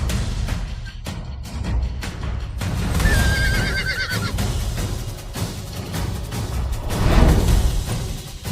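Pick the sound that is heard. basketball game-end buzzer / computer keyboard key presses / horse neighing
horse neighing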